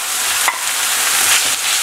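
Minced meat and onion frying in oil, a close, continuous hiss of sizzling with a brief stir, heard alone.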